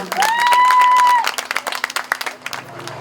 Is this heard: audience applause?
yes